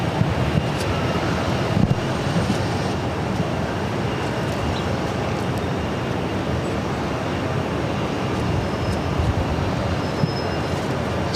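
Steady jet engine roar at Boston Logan's runway 22 right on a warm day, a continuous broadband rumble that holds at an even level throughout with no talk.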